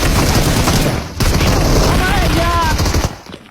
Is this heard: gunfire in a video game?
yes